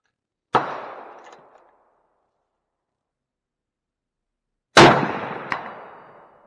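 Two loud, sharp rifle shots from a Remington 700 5R Mil Spec in .308 firing American Marksman ammunition at an outdoor range, each crack followed by a long decaying echo, several seconds apart with a faint distant ping after each.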